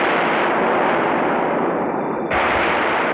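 Explosion blast in a Hindi action film scene: a loud, continuous roaring blast that fills the whole clip, with a sharp renewed burst near the end and no speech.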